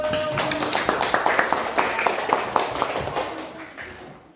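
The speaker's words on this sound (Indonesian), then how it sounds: "Oke, tepuk tangan dulu." Scattered hand claps from a small group, a light uneven patter of taps that fades out toward the end.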